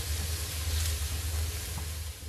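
Onion fries in a pan with a soft, steady sizzle, a faint even hiss that holds at low level with no talking.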